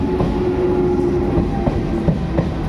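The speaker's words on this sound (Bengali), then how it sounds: "ট্রেন চলে এসছে।" A train runs into a station with a steady rumbling roar and a sustained tone, wheels clacking faintly over rail joints as it rolls past close by.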